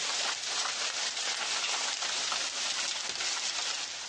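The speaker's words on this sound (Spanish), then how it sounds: "El granizo se ha notado en varios puntos de la provincia abulense durante toda la tarde." Hail falling on a road in the province of Ávila, a dense, steady wash of pattering impacts that continues without a break at an even, fairly loud level, with no voices.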